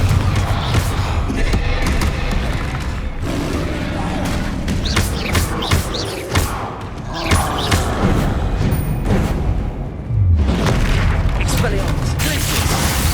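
Confringo blasting spell explosions in Hogwarts Legacy on PS5, a string of loud booms and crashing impacts spread through the clip, amid dense game combat noise with a voice speaking at times.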